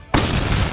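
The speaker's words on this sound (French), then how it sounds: "je suis toujours choqué par l'explosion" A bazooka firecracker explodes outdoors with a sudden loud bang after a brief quiet moment, followed by a sustained dense roar and crackle that stays loud to the end.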